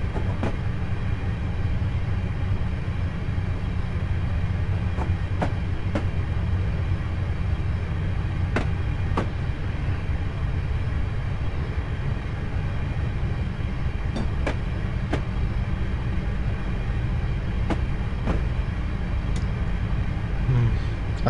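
A video game passenger train on the Isle of Wight rumbles steadily with a low continuous roar, and faint clicks of wheels over rail joints recur every few seconds.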